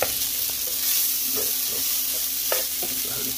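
Rice being stirred into a hot cooking pot for arroz manpostiao gives a steady close sizzle with scattered scraping knocks of the spoon, no talking.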